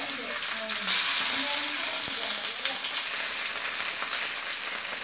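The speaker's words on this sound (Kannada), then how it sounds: "ಅದಕ್ಕೆ ನಾನು ಈಗ ಜಿಂಜರ್ ಪೇಸ್ಟ್ ಅನ್ನು ಹಾಕ್ತಿದ್ದೇನೆ ನಾನು ಅದಕ್ಕೆನೆ ಸ್ವಲ್ಪ ಜಿಂಜರ್ ಗಾರ್ಲಿಕ್ ಪೇಸ್ಟ್ ಹಾಕ್ತಿದ್ದೇನೆ" Ginger garlic paste frying in oil in a pan, a steady close sizzle with crackling and a faint clink of stirring, continuous throughout.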